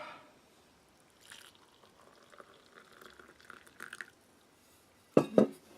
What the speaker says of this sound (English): Add a little bit of water.